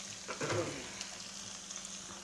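Onions frying in a pan while cooking chicken chana curry give a soft, steady sizzle at low level, with faint stirring scrapes and no talking.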